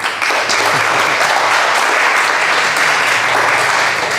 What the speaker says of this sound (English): Can we get a little welcome round of applause for Dilhan?